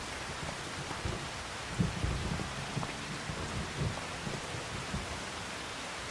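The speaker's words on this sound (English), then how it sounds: "maybe once it stops raining." Steady rain hisses continuously in the video game Farming Simulator 25, with low rumbles and patters rising here and there, soft and even throughout.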